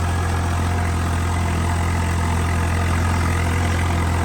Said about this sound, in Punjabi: ਟਰੈਕਟਰ ਦੇ ਰੰਗਿਆੜ ਤੋਂ ਪਤਾ ਲੱਗਦਾ ਹੀ ਆ ਵੀ ਕਿੰਨਾ ਡੂੰਗਾ ਹੈਗਾ